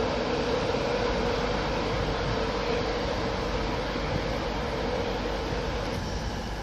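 Continuous broadband rumble and roar of a passing Class 91 electric train at York on the East Coast Main Line, loud and steady throughout, with no clear rhythm of wheel clicks.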